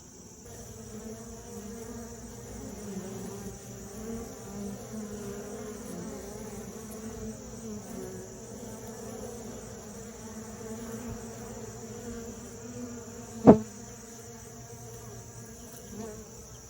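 Honey bees flying around hive entrances during a fall pollen flow, a steady layered buzzing drone from many insects close by, with one brief sharp knock partway through and no talk.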